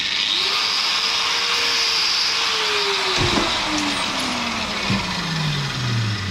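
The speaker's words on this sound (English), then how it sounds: "anything dealing with alloy, I always like to use a bar of wax on the grinding disc." An angle grinder with a waxed grinding disc cuts into alloy on a Hayabusa turbo kart, a loud continuous whine whose pitch sags as the disc bites into the metal, with occasional sharp scraping spikes.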